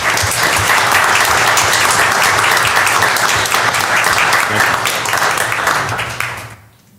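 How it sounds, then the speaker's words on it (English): Loud, dense applause fills a county commission meeting room for several seconds, a sustained steady clapping that fades out quickly at the very end. "So let's give Paul and all his folks a round of applause."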